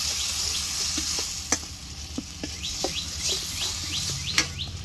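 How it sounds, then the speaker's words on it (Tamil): Crab curry masala with onion and tomato sizzles and fries in a pan while a spoon scrapes through it in irregular clicks, with birds chirping faintly in the background. "இது எல்லாத்தையும் ஒன்றா மிக்ஸ் பண்ணி விட்டுக்கலாம்"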